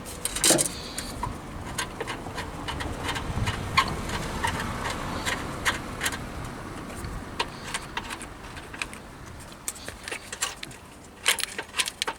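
A 2009 Ford Focus engine runs at a low, steady idle during an engine mount replacement, with frequent sharp metallic clicks and ticks layered over the hum.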